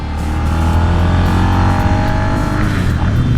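Suzuki SV650 motorcycle cruising on a highway, a steady loud engine drone with wind rush, close and continuous, holding an even pitch with a slight rising tone and no voices.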